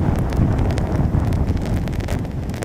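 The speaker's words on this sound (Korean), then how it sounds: "지금도 바람 소리가 굉장히 많이 들리는군요" Strong typhoon wind gusting across Jeju harbor during Typhoon Maysak, a loud continuous roar buffeting the microphone with rain, steady and close throughout with no speech.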